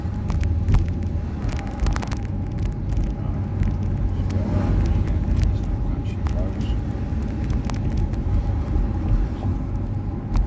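A 2005 Nissan Elgrand 3.5 V6 fitted with a GS2 chip accelerating on a road, heard from inside as a loud, steady low engine rumble with road noise throughout.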